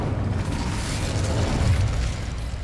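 The Incendio fire spell is cast in Hogwarts Legacy, giving a loud, sustained whooshing burst of flame with a rumbling boom that fills the moment. No voices are heard.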